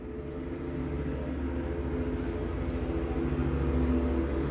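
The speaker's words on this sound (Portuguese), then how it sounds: "Peço desculpas pelo barulho, mas tá tendo aqui acho que é um helicóptero que tá rondando aqui." A steady, low droning rumble with a faint rhythmic chop hangs overhead, like a helicopter circling, continuous and fairly loud, with no talking.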